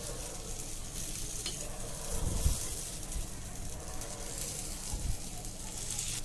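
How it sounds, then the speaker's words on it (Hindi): Idli batter being spread with a spoon across a mini dosa pan, heard as a steady close sizzle broken by a few low scraping and tapping strokes of the spoon. "हमने इडली का आटा इसमें डाल दिया है सब में और उसको थोड़ा सा फैला देंगे चम्मच से इस तरीके से।"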